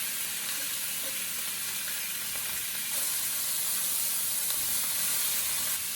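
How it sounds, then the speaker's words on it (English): Onions seasoned with salt and pepper sizzle in a frying pan, a steady soft hiss that swells slightly partway through, with no voices. "I'm going to put in the onions."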